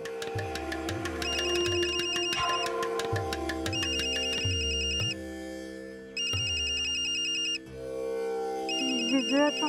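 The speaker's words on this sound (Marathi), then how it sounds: "फोन उचलून बघा" A telephone ringtone plays as a bright, repeating melodic ring in several bursts with short gaps, loud and close in a domestic indoor scene, with faint voices between rings.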